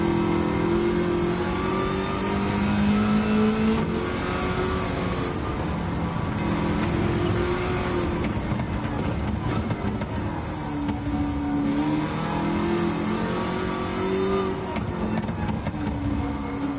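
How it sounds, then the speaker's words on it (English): A V6 engine in an Amuse 380RS car in Gran Turismo 7 revs and pulls hard, the pitch climbing and dropping through gear changes in a loud, continuous mechanical roar. "I like the sound of the V6."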